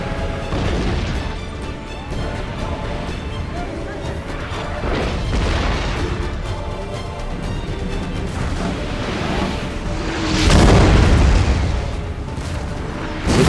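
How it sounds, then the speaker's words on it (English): Howitzer fire and cannon canister shot in a strategy battle game, repeated heavy booms and rumbling blasts with one louder burst near the end, set in continuous battle noise. "forced to a halt by heavy enemy howitzer fire and canister shot from the cannons in the"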